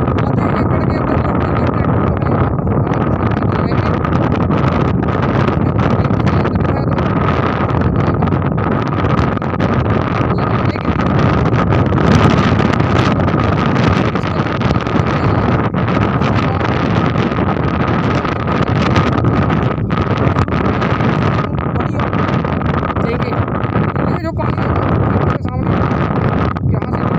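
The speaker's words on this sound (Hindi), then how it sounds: "तो ये ट्रैक्टर है दोस्तों स्वराज 855 FE" A Swaraj 855 FE tractor working a half-acre field being flooded and prepared for paddy planting, its steady engine drone continuous and loud throughout, heavily buffeted by wind noise.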